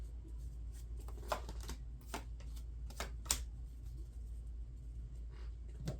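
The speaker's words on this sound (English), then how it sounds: "Let's pull your 3 cards here for April." Tarot cards being shuffled and pulled from a deck, a soft run of crisp card flicks and taps, quiet and close over a low steady room hum.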